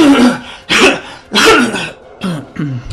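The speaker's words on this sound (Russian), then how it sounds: "Извиняюсь, я задолбался кашлять уже." A man in a Russian-language gaming session coughs and clears his throat in several harsh, close bursts over a few seconds.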